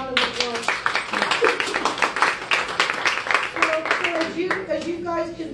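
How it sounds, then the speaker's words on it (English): Audience at a speaking event clapping in a lively round of applause, with distinct close hand claps mixed with voices talking and calling out throughout. "Can we give her a round of applause?"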